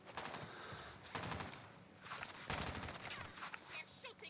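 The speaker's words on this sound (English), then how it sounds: "They're shooting at me." Rapid bursts of automatic gunfire from a first-person shooter game, dense repeated cracks in several volleys filling the clip, loud and continuous with no pause for talk.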